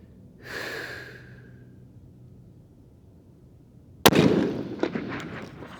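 A single sharp report from a Tikka precision hunting rifle, loud and close, cracking suddenly after a few seconds of quiet breathing-like noise and leaving a short, ringing tail.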